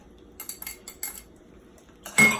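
A spoon stirs flour-thickened gravy with fresh garlic and peppers in a pot, making a few soft, close clinks and scrapes against the metal, then a louder scraping swirl at the end.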